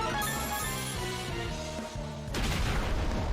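Pokémon Explosion move in Pokemon Eternal X, a burst of crackling rumble over tonal game music, the noise surging louder in the last second.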